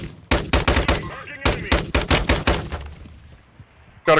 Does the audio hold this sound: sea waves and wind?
no